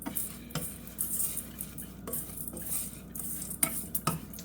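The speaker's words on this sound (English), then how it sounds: "And I want to keep stirring so I don't burn the sugars" Sugar being stirred in a pan over low heat to make caramel: repeated soft scraping strokes and occasional utensil clinks against the pan, faint and close, over a light background sizzle, with no talking.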